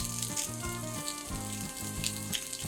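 Sausage sizzling as it browns in warm olive oil in a pan, a steady close crackling frying sound alone with no talk, holding an even level throughout.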